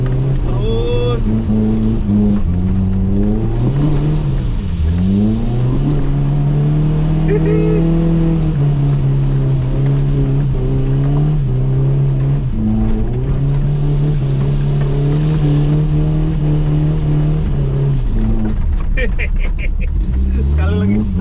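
Suzuki Jimny engine held in second gear at high revs, its drone rising and dipping with a couple of clutch-kick surges, close and loud throughout with someone talking over it.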